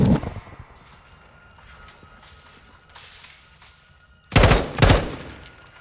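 Gunfire from Call of Duty: Modern Warfare II, a near, loud pair of sharp bursts late in the clip after a quieter stretch of faint ambient game noise.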